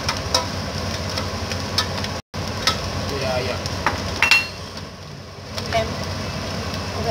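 Meat is stirred and browned in a pan for a homemade lasagna sauce. A steady sizzle runs throughout, with a scraping utensil clicking now and then and one brief dropout partway.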